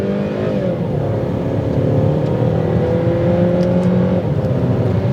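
A 2010 Saab 9-5 with a four-cylinder engine drives along, a steady mid-level drone of engine and road noise with a slight rise in pitch as it pulls, no voices.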